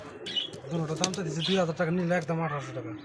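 Soft, low cooing from helmet pigeons repeats over about three seconds, mixed with a few faint chirps and a nearby voice talking.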